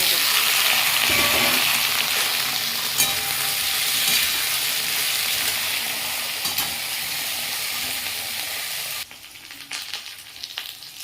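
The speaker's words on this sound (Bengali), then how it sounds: "এরপরে ছাড়িয়ে রাখা আর লতিগুলো দিয়ে একটু ভেজে নেব" Taro stolons fry in oil with nigella seeds and green chili, giving a loud, close, continuous hissing sizzle that softens partway through and then thins to scattered crackles near the end.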